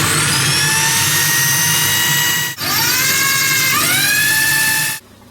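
A power drill whines at high speed while driving wood screws into a gyprock wall, two long loud close runs split by a brief stop, with the pitch dipping as the screw bites in the second run, no voices.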